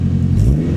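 Turbo Honda Integra DC5 engine giving a short, quick rev, a deep close rumble that swells briefly and settles, all in under a second.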